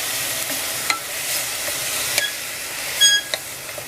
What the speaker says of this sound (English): So I'm going to saute that really well